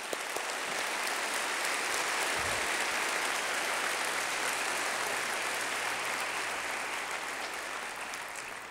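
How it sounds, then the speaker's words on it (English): A large audience at a 2019 State of the City address applauds in a long, even wash of clapping that holds steady for several seconds and eases slightly at the end. "Let's give them a round of applause."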